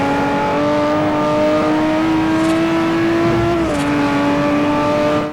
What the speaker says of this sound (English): One detail I particularly enjoy are the engine sounds in tunnels.